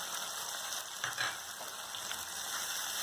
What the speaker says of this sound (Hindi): आपको इसको तब तक भूनना है कि इसमें से ऑयल निकलने लगे टमाटर में से अच्छे से।